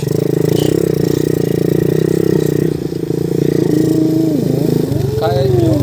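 A motorcycle engine drones steadily at close range with short rising revs near the end, on a rough road, with people talking over it.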